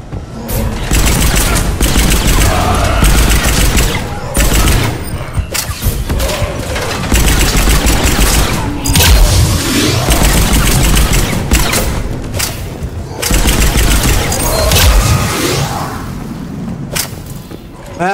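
Heavy gunfire and explosions in the Mass Effect 3 video game form a loud, sustained barrage of rapid shots and booming thuds that continues almost without a break.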